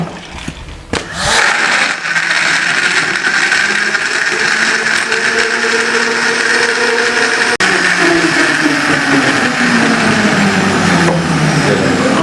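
A blender runs steadily at high speed, grinding a milk soda mixture for a commercial drink, the loud motor whine starting after a brief clatter and holding constant with a slight pitch drop near the end.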